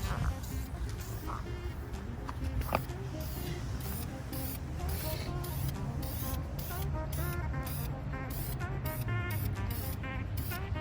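A spray gun hisses steadily as paint goes onto a K24 transmission case, with a continuous close airy spray broken by brief pulses and no talking.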